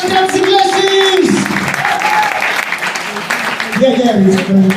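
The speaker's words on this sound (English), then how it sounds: "Round of applause for Athens Inglessis!" A comedy club audience in Athens claps after a stand-up set, sustained applause with voices calling out through it and someone talking near the end.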